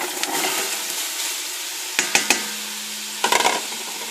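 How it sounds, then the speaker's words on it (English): Garlic, onion, celery and carrots cooking in a pan for cauliflower chowder, with a steady soft sizzle and a few sharp wooden scrapes and knocks of stirring near the end. "I'm going to cook and stir that for just a few minutes till they start to soften a bit"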